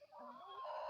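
Chickens on a small home farm give a brief, faint burst of clucking, a soft warbling call over a low background hush.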